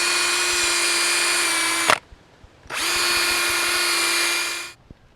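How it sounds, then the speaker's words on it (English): A power drill pre-drills holes in wood for a fence built on steel posts, two loud, steady whining bursts of about two and three seconds each, close by, with a short pause between them and no talking. "So I like to do a little pre-drill."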